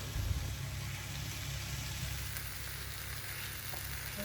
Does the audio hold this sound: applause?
no